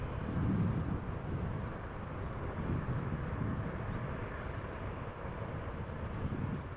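A jet airliner roars steadily at Amsterdam Schiphol Airport, a broad low rumble mixed with wind buffeting the microphone outdoors, no talk.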